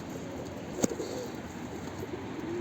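A pigeon kept among caged birds coos softly in the background over steady low ambient noise, with one sharp click or knock partway through.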